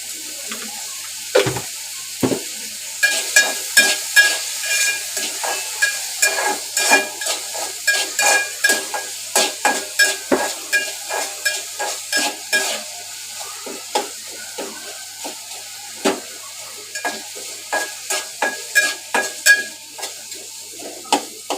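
Tomatoes for a Malvani-style okra bhaji roast in a pan with a constant hiss of sizzling, while a spoon scrapes and stirs in a steady rhythm of close, repeated strokes.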